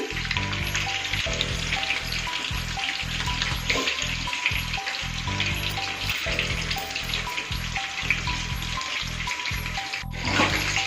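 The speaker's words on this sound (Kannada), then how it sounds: "ನೀಟಾಗಿ ಡ್ರೈ ಫ್ರೈ ಆಗಬೇಕು ಸ್ಟವ್ ಐ ಫ್ಲೇಮಲ್ಲೇ ಇರಲಿ" Chicken kebab pieces dry frying in a pan on a high flame, a loud, dense, crackling sizzle that runs steadily without a break, with no talk over it.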